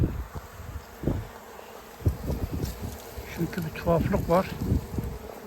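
A honey bee swarm settling at a hive after the queen is placed inside, a continuous buzzing hum of many bees close by, with someone talking in Turkish over it.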